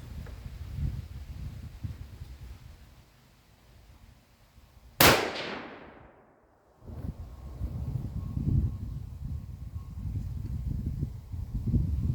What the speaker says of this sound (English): 5th and final shot.